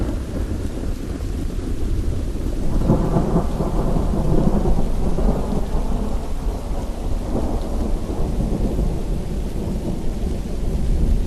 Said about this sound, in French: les orages